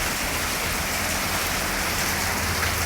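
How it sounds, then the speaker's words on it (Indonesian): Heavy rain pours down steadily as a dense, unbroken hiss, loud and close, with no voices over it. "Hujan deras"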